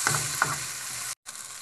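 Broccoli stir-frying in a pan for pansit guisado, a close, steady hiss of sizzling oil with a couple of stirring scrapes, broken by a brief gap.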